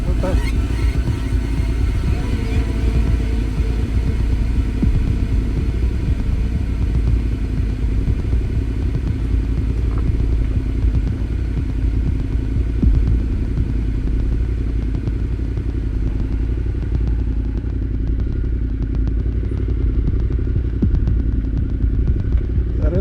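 A motorcycle engine on a steep mountain-pass descent throbs and rumbles steadily up close throughout, a constant low drone with some rattling.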